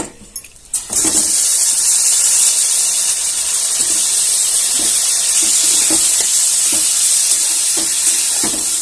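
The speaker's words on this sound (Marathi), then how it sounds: "आता आपण ठेसलेला बटाटा घालून घेऊया" Crushed potato hits a hot pan holding roasted peanuts and chilies for a fasting dish, bursting into a loud, steady sizzling hiss after a brief quiet start, with faint scraping ticks underneath.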